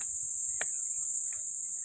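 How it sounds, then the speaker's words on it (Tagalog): A steady high insect drone, crickets chirping continuously on a mountain, holds throughout, with a couple of brief faint clicks in the background. "Ang maririnig mo dito ay mga tunog ng ibon. Mga kuliglig."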